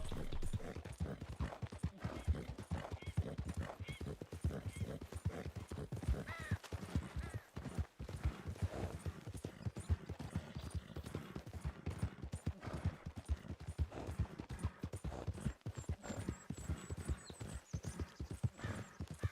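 Rapid, continuous hoofbeats of a Mustang horse in Red Dead Redemption 2 clattering along at a gallop for a long stretch, dense and steady, with a horse whinny mixed in.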